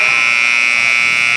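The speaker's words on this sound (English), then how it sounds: "Shot at the three-pointer at the buzzer by Kamiga is no good" Loud electronic buzzer sounding continuously to end a quarter of a high school basketball game in a gym, a steady harsh tone with commentary voices faintly underneath.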